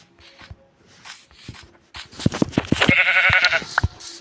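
A Minecraft sheep bleats in a few short, wavering calls close by, mixed with blocky footsteps and game clicks.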